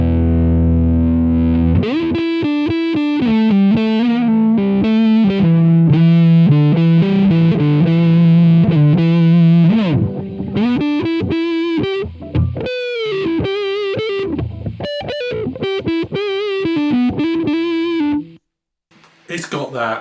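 A Gibson SG Standard electric guitar with the tone knob rolled back plays a nasal, held-back overdriven lead line, sustained notes and bends, loud and close, with a short gap near the end.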